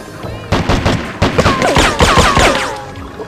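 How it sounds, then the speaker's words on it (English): Rapid bursts of gunfire from enemies in the video game Silent Assassin, dense overlapping shots and automatic volleys with sharp ricochet whines, loud and continuous through a short span. "Somebody over there is shooting at me."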